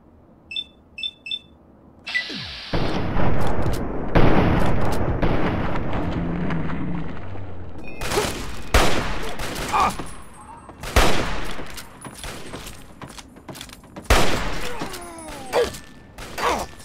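Gunfire from the PC game Fallout 3 in its Point Lookout expansion: a few quick beeps, then bursts of close, loud shots and rapid volleys in irregular clusters, with brief quieter gaps between them.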